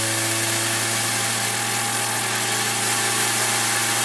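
A Lego bladeless turbine runs on compressed air with a loud, steady, high whirring drone and a strong rushing hiss, holding constant speed throughout with no voices.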